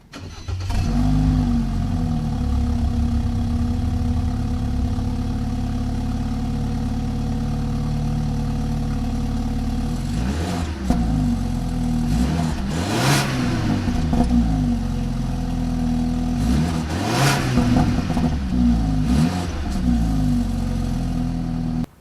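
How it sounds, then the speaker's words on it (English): A BMW 428i's dual exhaust idles with a steady low rumble, then two sharp revs swell up and fall back, loud and close with no talking. "we'll go ahead and play the sound clip here for the exhaust with a few revs"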